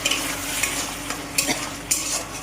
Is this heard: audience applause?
no